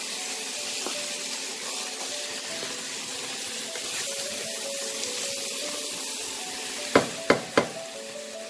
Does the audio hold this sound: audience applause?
no